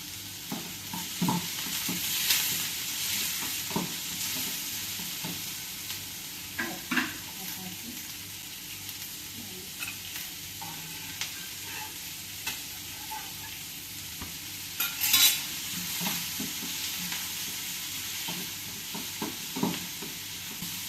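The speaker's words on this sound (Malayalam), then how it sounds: "ചമ്മന്തിക്കുള്ളത് വഴന്ന് കഴിഞ്ഞു" Ginger, garlic, tomato and curry leaves sautéing in a pan for chutney, a continuous sizzle with repeated close scraping stirs throughout.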